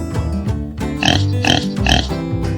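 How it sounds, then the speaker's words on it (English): A pig oinking on a farm, giving three loud, close grunting snorts in a steady rhythm over a continuous tonal backing. "Here's the pig. The pig says, "Oink.""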